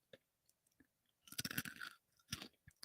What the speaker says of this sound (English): This is me chewing moon cheese.